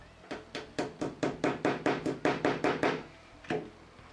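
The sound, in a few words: light hammer taps punching a small hole in a wooden hanger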